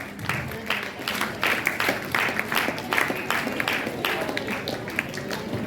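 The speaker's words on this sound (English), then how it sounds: "Guys, big round of applause." A college audience at the ANOKHA 5.0 valedictory function claps steadily as students are called up. The crisp, scattered claps run throughout at moderate volume, with a voice talking over them.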